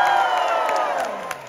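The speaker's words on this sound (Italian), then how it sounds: "Voglio un applauso fortissimo per questo ragazzo" A concert crowd at a live show cheers and whoops loudly, a dense wash of voices that tapers slightly toward the end, with one brief sharp shout near the close.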